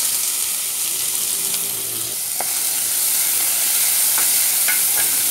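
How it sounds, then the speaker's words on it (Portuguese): Onion and chili pepper sauté in two spoonfuls of olive oil in a pan, a loud steady sizzle with a few light clinks of stirring near the end and no speech. "Aqui na panela tem duas colheres de sopa de azeite e eu vou refogar essa cebola com a pimenta."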